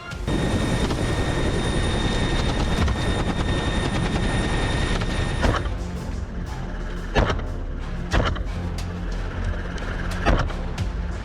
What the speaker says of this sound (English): hunters have to contend with the intense vibrations of the helicopter